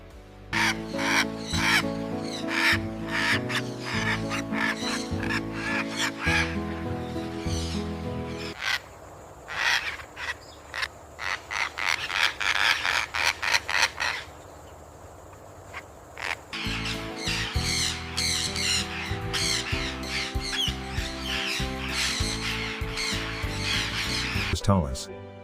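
Young scarlet macaw chicks in a breeding and rearing facility give repeated harsh, loud squawks and calls, mostly under a narrating voice, with a stretch where the birds are heard more on their own.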